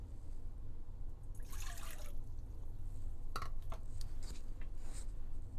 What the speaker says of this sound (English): in the bowl where you're going to work your dough, we're going to put in the warm water